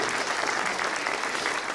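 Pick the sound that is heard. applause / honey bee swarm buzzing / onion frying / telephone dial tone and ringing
applause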